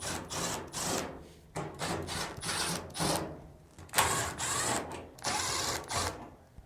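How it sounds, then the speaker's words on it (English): Screws being backed out of the front drum assembly of a Samsung dryer, close-up bursts of whirring power-driver noise and metallic rasping in short repeated runs, separated by brief pauses. "Now, remove the 4 screws on the front drum assembly."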